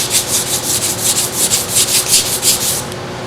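Paint on the cab of a 1971 Chevy C20 custom camper is sanded by hand in quick, rhythmic back-and-forth strokes, loud and close, with no voices, stopping just before the end.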